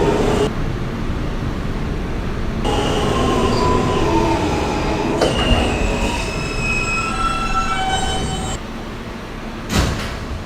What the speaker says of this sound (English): Stillwell Avenue bound F local train